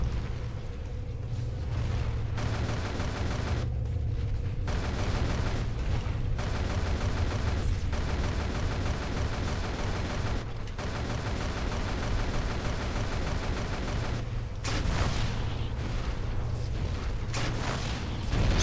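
A mech's upgraded machine guns in MechAssault fire in long, loud, continuous bursts with brief pauses between volleys, over heavy low rumbling and mechanical clanking.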